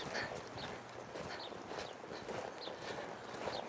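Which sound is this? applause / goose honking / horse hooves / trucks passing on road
horse hooves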